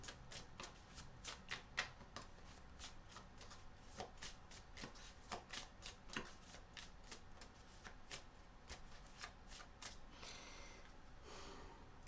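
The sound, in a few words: shuffling tarot cards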